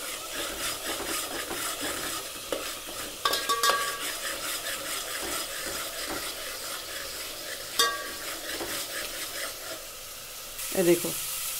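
Onions frying in a pan for a kidney bean curry, a soft continuous sizzle under repeated scraping and knocking stirs, with a sharper clatter near the end.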